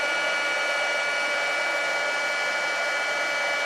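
A heat tool blows steadily and loudly throughout as it melts embossing powder on a stamped card, a continuous even whir with no pauses and no talking.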